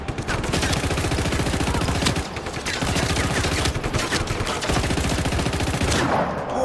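Rapid, sustained gunfire in Just Cause 3, including shotgun blasts, crackling in dense repeated bursts with a short gap midway, loud and close throughout.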